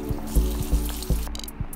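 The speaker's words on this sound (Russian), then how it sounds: "Теперь можно помыть все инструменты. И хорошо, что эта краска легко отмывается обычной водой." Linocut printing tools are rinsed under running water, with a steady trickle and splash broken by several soft knocks and clatters of the tools in a sink, close and fairly loud.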